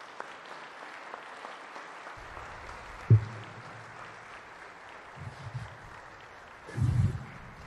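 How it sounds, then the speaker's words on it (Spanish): Applause from an Ecuadorian parliament audience welcomes Julian Assange, a moderate, steady spread of clapping with low bumps and thuds scattered through it. "Un aplauso."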